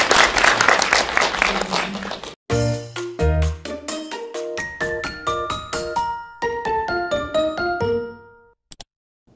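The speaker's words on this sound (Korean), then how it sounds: "큰 박수 부탁드리겠습니다" Audience bursts into applause for a couple of seconds at a Korean broadcast segment, then the clapping cuts off and a bright chiming jingle of rising tones plays alone.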